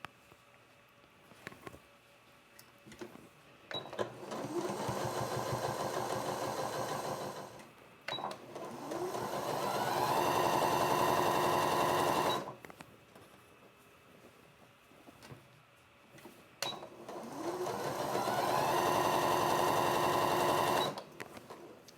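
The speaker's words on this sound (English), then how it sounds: "I'm going to go ahead and chain stitch these 2." A home sewing machine chain-stitches quilt fabric squares in three long steady runs of rapid, even mechanical whirring, separated by brief pauses with soft handling clicks, close and clear with no voices.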